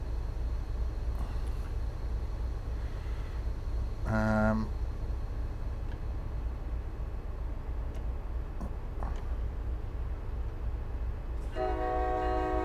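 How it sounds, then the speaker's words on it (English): A locomotive horn sounds in Train Sim World 5 on an MBTA commuter train: a short blast near the middle and another at the end, both over a steady low cab rumble. "that's the bloody horn"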